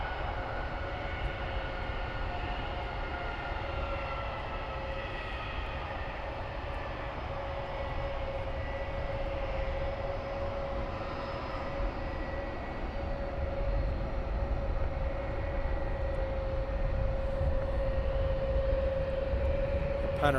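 Steady jet engine roar of Wizz Air airliners departing Luton Airport, a continuous broadband rumble with a sustained whine, swelling slightly louder toward the end, heard from a distance outdoors.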